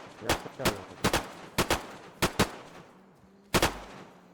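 Gunfire in the survival game DayZ: about six sharp, loud shots spaced irregularly, some coming in quick doubles, with short gaps of quiet between them.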